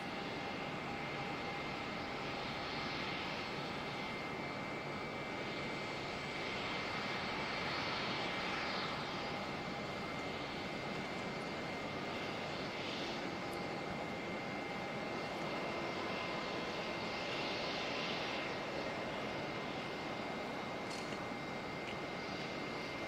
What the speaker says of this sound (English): 777 300 takeoff.